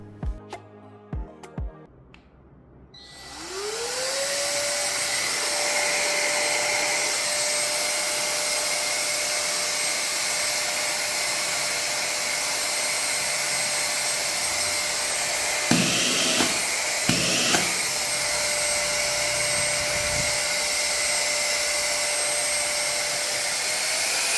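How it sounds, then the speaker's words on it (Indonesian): A Usams ZB234 cordless mini vacuum cleaner whirs up after a few clicks and then runs at a steady high-pitched whine, loud and close, with a couple of brief knocks. "kalau teman-teman mau denger ini vakum seberisik apa waktu digunakan"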